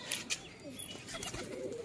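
Pigeons at a Bengali loft, among mostly green pigeons and white foreign breeds, give soft low cooing over a busy outdoor background, with faint chirps and wing rustles nearby.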